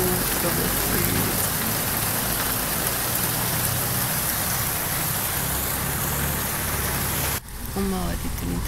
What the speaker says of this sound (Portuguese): Exatamente na hora que eu vim pra janela começou a chover. Novamente, né? Esse aguaceiro vai ser outro aguaceiro.